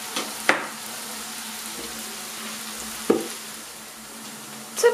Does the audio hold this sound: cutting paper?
no